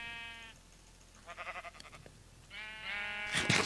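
Sheep in the Minecraft video game bleat faintly several times: a wavering bleat at the start, a shakier one in the middle and another near the end, followed by a brief burst of louder noise.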